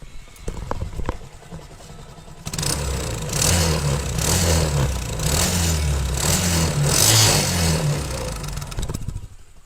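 A Bajaj Discover motorcycle engine running after a full engine rebuild starts up after a quiet moment, then holds a steady, fairly loud idle that swells in a few repeated rises and falls.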